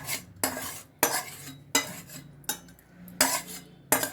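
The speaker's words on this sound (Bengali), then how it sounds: "নাড়াচাড়া করে এটাকে সুন্দর নামিয়ে ফেলবো" Mushroom curry being stirred in a pan, six sharp metallic clanks of a spoon against the pan at a steady rhythm over a faint simmering sizzle, close and clear.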